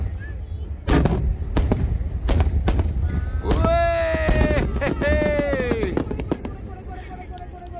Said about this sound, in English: We ended the night with some fireworks in the city harbor